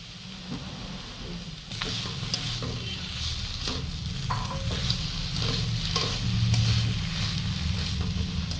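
Vegetables and peanuts fry in hot oil for vegetable chops, with a steady close sizzle and repeated scraping stirs of a spoon in the pan. No one speaks.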